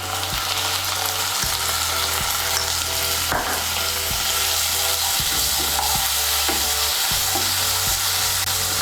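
Ginger, garlic and green chili paste fries with chopped onion in a pan, giving a steady, loud sizzle broken by regular scraping strokes of a stirring spoon.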